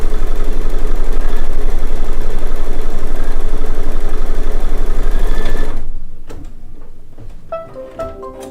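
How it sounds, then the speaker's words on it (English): An embroidery sewing machine stitching a placement stitch for a quilt flower center, running loud with a fast even mechanical chatter for about six seconds, then stopping, followed by a few light clicks and handling noises. "So next we're going to do a placement stitch for the circle, the center of the flower."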